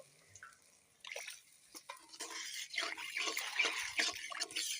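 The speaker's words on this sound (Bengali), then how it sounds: "নেওয়ার পরে এখানে পানি দিব" Water poured into an egg curry of duck and chicken eggs with potatoes, cooking in a pressure cooker; a quiet start gives way to a steady, close splashing pour that runs for several seconds with no talking.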